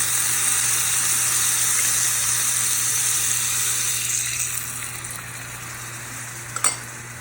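Chicken and broccoli with garlic, soy sauce and hoisin sauce sizzling steadily in a pan, a loud continuous hiss that eases slightly toward the end, with one brief clatter.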